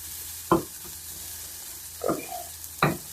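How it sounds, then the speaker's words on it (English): Onions being stirred in a pan for Mexican-style rice and beans, heard as three distinct scraping strokes of the spoon over a soft, steady sizzle, close up with no talking. "we're going to give that a good stir all together"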